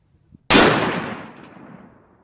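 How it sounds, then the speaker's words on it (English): A single sharp rifle shot fired at a target on a ranch, loud and close, with a sudden crack followed by a long fading echo. "Okay, firing."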